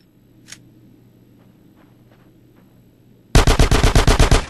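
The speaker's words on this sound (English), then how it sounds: "Give me some fucking covering fire!" Rapid automatic gunfire from Grand Theft Auto San Andreas bursts out loud and close, a steady string of about a dozen shots after a mostly quiet stretch with a faint click.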